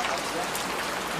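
Light drizzle patters steadily as a soft, even, close hiss of fine rain through the whole moment, with no voices.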